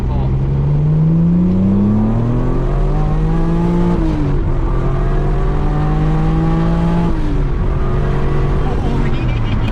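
Small car engine revving hard under acceleration on a street, loud and close, with rising pitch sweeps that climb, drop at each gear change and climb again across several pulls.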